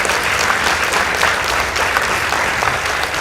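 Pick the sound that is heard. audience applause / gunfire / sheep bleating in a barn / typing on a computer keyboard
audience applause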